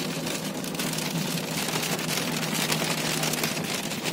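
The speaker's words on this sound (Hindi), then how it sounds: "बारिश मस्त हो रही है" Steady rain drums on a car during a road trip to Udaipur, a dense, even hiss heard from inside the vehicle with a low engine hum beneath it and no talk.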